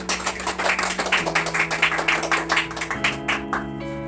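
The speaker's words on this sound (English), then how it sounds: "You all can clap." An audience applauding in a steady patter of many hands clapping, with a sustained tonal hum underneath that shifts pitch a few times.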